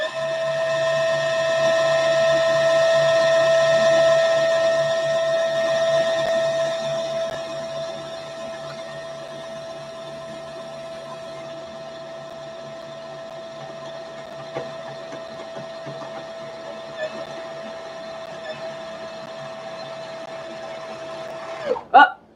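A sewing machine runs steadily as it winds thread onto a bobbin, a smooth whirring hum that drops slightly in speed partway through before stopping with a small click at the end.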